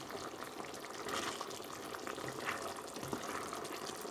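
Beef adobo with carrots and other vegetables bubbling and sizzling in a pot while being stirred, a steady close simmer with occasional soft scrapes, no talk.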